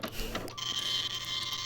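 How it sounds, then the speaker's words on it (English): A cyber printer in the computer game Space Quest 6 whirs and chatters briefly, a mechanical printing effect that holds steady for under two seconds with no one speaking over it. "The cyber printer accepts your cyber file gratefully and begins to print."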